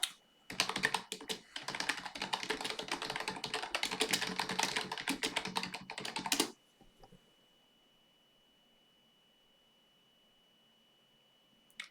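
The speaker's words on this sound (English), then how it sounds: "Why am I typing and nothing's happening?" Fast, continuous typing on a computer keyboard, close and crisp for about six seconds, then stopping abruptly and leaving near silence.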